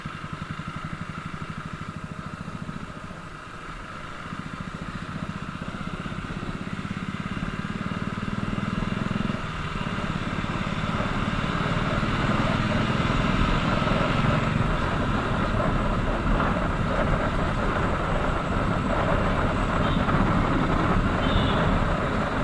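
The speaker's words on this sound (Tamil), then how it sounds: "சூப்பர் பைக் பிரச்சனை என்ன தெரியுமா? நீ நினச்சாலும் அதை நீ ஸ்லோவாக ஓட்ட முடியாது." A superbike motorcycle ridden fast on a road, its engine a steady, loud roar that builds and thickens over about twenty seconds with no talking.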